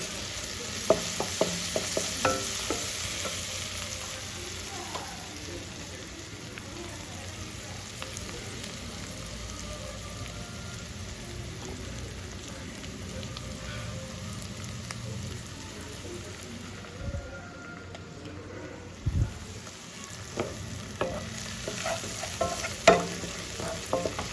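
Chicken liver frying with ginger garlic paste in a pan, a continuous close sizzle with intermittent stirring scrapes and taps, no talking.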